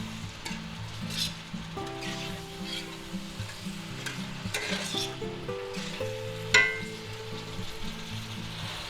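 Garlic sizzles loudly in a stir-fry pan for a pepper steak vegetable dish, a continuous crackling hiss broken by wooden scrapes and knocks as it is mixed, with one sharper clank near the end; nobody speaks.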